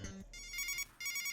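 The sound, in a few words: phone ringing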